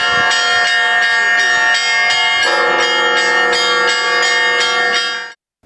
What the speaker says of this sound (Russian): Все 18 колоколов подключили к электронной системе.